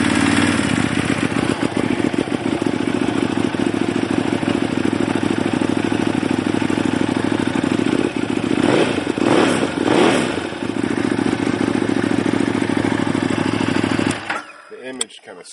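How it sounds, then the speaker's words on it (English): A motorcycle engine runs at a steady, loud idle, close by, with a brief rise in revs partway through before it cuts out near the end. Speech is faintly present. "Now notice when I start the bike,"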